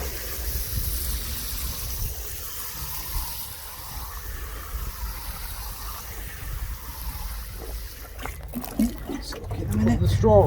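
Water poured over newly planted autumn cabbage seedlings in a garden bed gives a steady, close trickle and splash that rises toward the end, while a person talks throughout.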